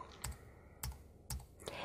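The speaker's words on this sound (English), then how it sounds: "I'll just hit my right arrow key on my keyboard" Arrow keys on a computer keyboard are pressed four times at an even pace, each a single distinct click close to the mic in a quiet room.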